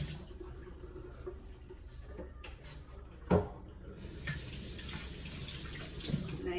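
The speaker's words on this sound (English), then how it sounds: "And I'm gonna rinse the spoon." A spoon being rinsed under a running kitchen tap, a steady broadband water hiss throughout with a brief knock of the spoon against the sink near the middle.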